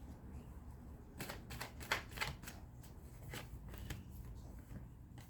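Tarot cards shuffled by hand in a run of soft, rapid riffling flutters and light slaps that come and go over several seconds, close and fairly quiet with no talking.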